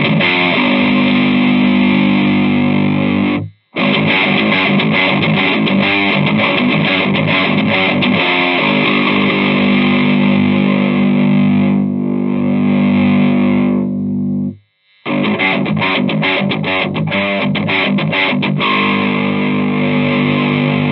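An electric guitar runs through a Mud Killer pedal into a Fender Hot Rod amp, playing loud, heavily overdriven riffs that break up. The playing is continuous apart from two brief pauses, with no talking.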